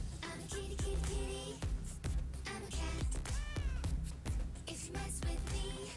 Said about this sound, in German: Diese Katze aus den Teasern.